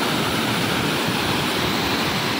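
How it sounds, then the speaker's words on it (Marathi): Waterfall plunging off a cliff in Konkan, a loud, steady broadband roar of falling water filling the whole stretch without pause. "बघा धबधबा."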